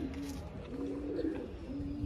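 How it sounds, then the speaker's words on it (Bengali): A cross-breed pigeon coos in low, drawn-out rolling calls repeated three times, close and steady against faint outdoor background. "আমার যতদূর মনে হলো এটা কোনো ক্রস পায়রা হবে"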